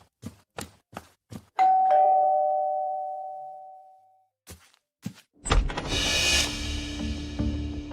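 A doorbell rings once with a clear sustained tone that slowly fades, preceded by a few quick knocks or thuds, then more thumps and a burst of noisy rustle near the end, indoors and close.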